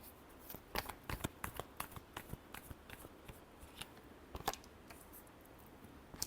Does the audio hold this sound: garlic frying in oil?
no